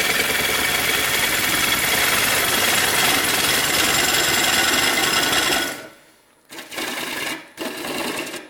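A wood lathe spins a platter while a bevel-supported tool cuts, a loud steady whirring drone with broadband shaving noise for about six seconds, then stopping and restarting in short bursts.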